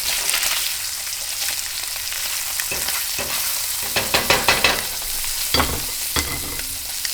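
Mountain trout frying in a pan, a continuous close sizzle with scraping and clattering as the fish are flipped, several sharper knocks toward the end, no talking.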